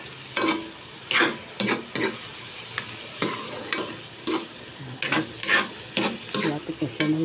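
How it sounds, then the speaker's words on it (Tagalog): Bitter gourd with egg is stirred in a frying pan after a little water is added: irregular scraping strokes of a utensil against the pan over a soft, steady sizzle. "Lagyan natin ng konting water para maluto-luto pa. Add ko ng konting water. Haloin natin."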